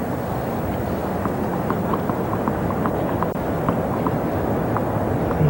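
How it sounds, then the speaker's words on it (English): Steady wind blowing across an outdoor grass tennis court during a Wimbledon quarterfinal, a continuous broadband rush with no talk in this stretch. "The wind is picking up again."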